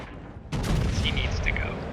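Naval guns firing aboard the battleship Iowa in the World of Warships video game, one sudden heavy boom that rolls into a loud sustained rumble after a quieter lead-in.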